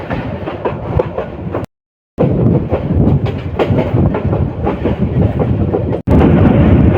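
Loud, continuous rumble of the Teesta Express rolling along the rails past Bangladesh Agricultural University station, with rhythmic rattling, heard from on board, interrupted by a brief cut to silence.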